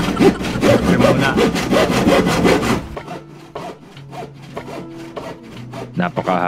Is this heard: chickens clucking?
no